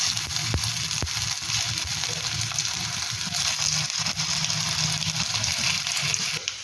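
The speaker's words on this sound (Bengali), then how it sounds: "এবারে কেটে রাখা আলুগুলোকে, যেগুলো স্টাফিং করা, সেগুলোকে আমি হালকা করে 2 পিস ভেজে নেব" Stuffed potatoes sizzling lightly in white oil in a frying pan, a close, steady hiss broken by a few sharp pops and crackles, with no voices.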